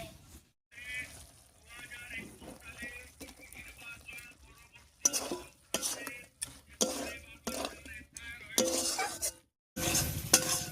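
Prawns added to a spice paste with sour yogurt and stirred in a pan, loud bursts of sizzling and scraping clatter of a utensil against metal, broken by short pauses, with a voice talking early on.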